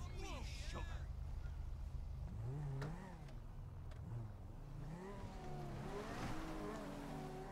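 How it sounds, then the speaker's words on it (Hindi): A fast white car driven in the video game GTA V; a loud engine drone revs up and down through gear changes, rising and falling in pitch over a continuous road rumble. "मैं गाड़ी लेकर उस लोकेशन के लिए मैं निकल चुका हूँ"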